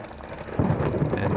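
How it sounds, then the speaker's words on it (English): A thunderstorm rolls through the Into the Radius game. Steady rain hiss gives way midway to a sudden low thunder rumble that swells and stays loud. "we got to kind of wait out this this storm"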